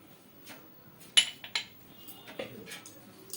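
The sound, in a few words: spoon mixing tamarind pulp sauce in a bowl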